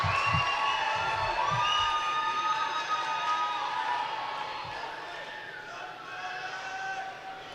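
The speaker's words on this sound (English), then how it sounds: "Team Quebec in the stands, cheering for Rive." Team Quebec supporters in the stands at karate nationals cheer and shout in sustained, rising and falling whoops that fade slowly, with a few thuds from the mat underneath.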